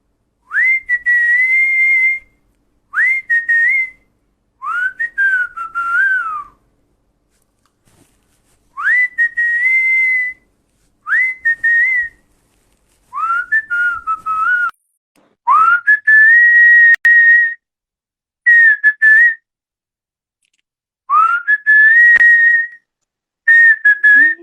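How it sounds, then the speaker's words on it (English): One person whistles a song melody alone, close and clear, in a series of short tuneful phrases separated by brief pauses. "I'm going to sing one song on whistle"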